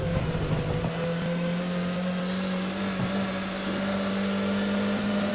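A Formula 1 race car engine in the F1 2013 game, warming tyres during qualifying in Australia, hums in a steady, sustained drone at moderate level, with no talk over it.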